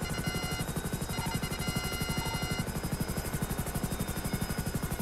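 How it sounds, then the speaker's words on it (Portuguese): Rapid, rhythmic thumping of helicopter rotor blades drones steadily throughout, loud and continuous, with a faint electronic hum in a game setting. "Caridoso, desce aqui embaixo do helicóptero, do hospital."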